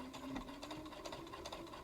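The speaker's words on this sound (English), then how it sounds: "Let's drop my needle down, and I'm just going to do a little lock stitch" Sewing machine stitching a short lock stitch on fabric, a fast, even mechanical whirr with rapid needle pulses, close and fairly quiet.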